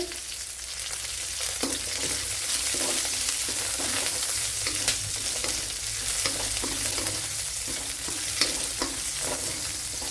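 Green chillies and garlic fry in a hot pan for a Kerala-style beetroot and drumstick curry, a steady close sizzle with light stirring scrapes throughout and no voices.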